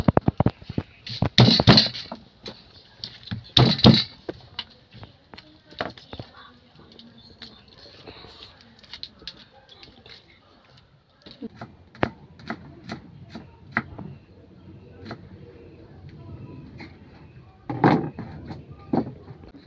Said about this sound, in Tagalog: Hiwain muna natin yung bawang tsaka sibuyas